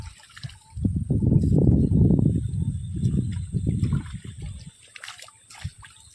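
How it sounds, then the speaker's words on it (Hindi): Water from a waterfall stream trickles and splashes close by, with uneven sloshing bursts as someone plays in it, then settles to quieter gurgles toward the end. "पानी रे कुलकुल साउंड"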